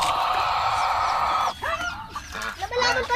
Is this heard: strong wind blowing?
no